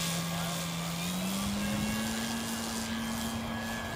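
A small model airplane's propeller motor drones steadily after being released from a model rigid airship, a sustained buzz that rises slightly in pitch, continuous and fairly near throughout.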